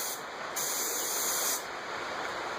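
An airbrush sprays dark green paint onto the fins of a bluegill fish skin mount, a soft continuous hiss with one stronger, brighter burst of spray in the middle, close up and without talk.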